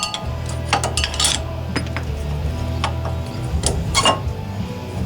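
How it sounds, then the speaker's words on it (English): Screwdriver prying worn brake pads off a Ford BA caliper, giving close metallic clinks and scraping rattles over a low steady hum. "Just use a screwdriver to pop it."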